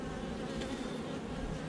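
Honeybees buzzing around a hive with the queen present, a dense continuous drone, close and steady, with no talk.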